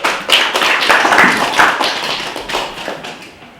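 At a poetry reading launching a Red Poets issue in Cardiff, an audience applauds the first poet: dense, lively clapping from a roomful of people that carries on for several seconds and then begins to fade.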